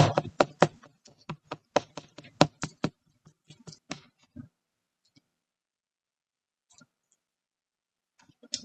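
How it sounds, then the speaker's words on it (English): Cooking taco meat being chopped up with a utensil in a pan, a rapid series of sharp scraping taps for about four seconds, then near silence with a few faint clicks. "Just want to take it and do this to chop it up a bit."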